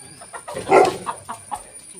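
A chicken clucks in short, irregular bursts nearby, with faint background voices and ambient noise.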